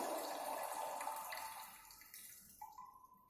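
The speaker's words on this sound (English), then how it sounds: "Till the brim, fill the water." Water pours steadily from a tap into a bottle, the rushing flow thinning and rising in pitch as it fills to the brim, then tapering to a few drips, close and alone.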